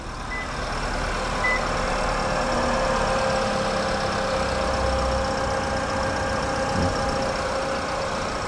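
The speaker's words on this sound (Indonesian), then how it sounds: "Tuh, kalian bisa dengerin suara mesinnya." A 2023 Toyota Veloz Q CVT with a 106 PS engine idling, a steady, even hum that holds unchanged and close, with no talking over it.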